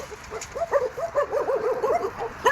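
Dogs in a village in Spain give short yips and whimpering barks, several animals close by in a quick, uneven run without a break.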